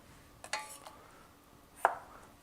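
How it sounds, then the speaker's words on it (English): A knife chops potatoes for potato salad on a cutting board, with a few sharp, separate strikes spaced out over quiet kitchen background. "you sort of just have to do the chopping motion like over and over again"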